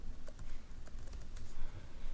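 Keys clatter on a computer keyboard as server information is typed in to host an online game, a quick irregular run of light clicks for about two seconds with no talk.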